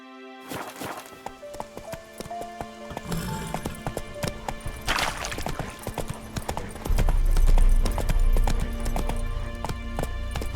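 Horse hooves clopping and galloping in The Witcher 3, a neigh early on, rhythmic hoofbeats building into a heavier, faster run alongside game music and effects.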